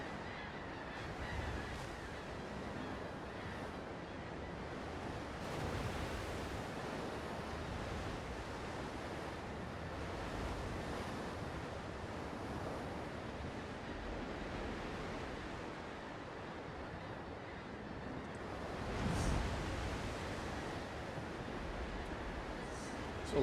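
Continuous ocean surf rolling over completely open water in a video game, a steady broadband wash of waves with a slightly louder swell near the end, heard alone without talk.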